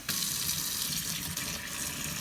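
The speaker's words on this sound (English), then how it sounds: "let's turn on some water" Kitchen faucet running water into a newly installed sink with a garbage disposal and splash guard, a steady close rush that starts abruptly and holds at an even level throughout.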